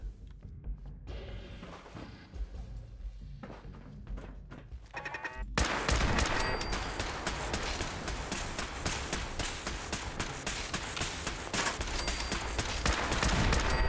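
Video game gunfire in Fallout 4 crackles in rapid bursts, quieter and sparse at first, then turning into a dense, continuous barrage for the second half, with no talk.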